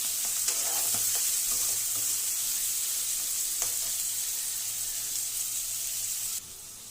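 Chicken liver frying in a pan, a loud, dense, unbroken sizzle close by with a few faint utensil knocks, dropping in level near the end.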